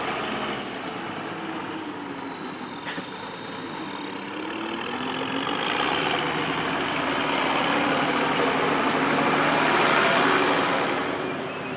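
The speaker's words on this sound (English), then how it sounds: "Here is your entry in our light pro stock tractor class." A light pro stock class tractor roars at an Elkhart County Fair tractor pull, its engine a loud continuous drone that builds and swells under load as the run goes on, with no talking.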